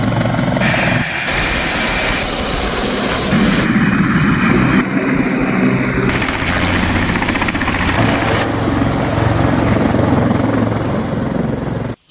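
A British Army Westland Lynx helicopter running its engine on the ground outdoors, a loud, continuous turbine whine and rotor roar held steady and close throughout, with shifts in tone and no voices.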